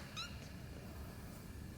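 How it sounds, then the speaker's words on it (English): A tiny young female kitten gives one short, high squealing meow near the start, followed by a fainter second cry, over quiet room background with no talking. "Look at this little tiny baby itty bitty kitten."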